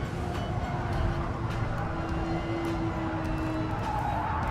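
A synthesized-sounding car engine in GT Sport, a steady droning tone with a faint whine, continuous and fairly loud, with no talk.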